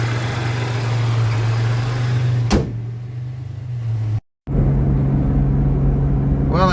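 Supercharged Mitsubishi 3000GT with a new supercharger belt, engine droning steadily up close, with a brief sweeping whine, a dip, a sudden cut and then the hum resuming.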